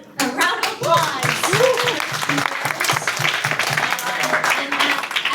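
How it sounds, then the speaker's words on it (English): Audience applause at a tech meetup in Manila, a crowd clapping steadily at close range for several seconds while voices and cheers mix in underneath. "Let's give a round of applause"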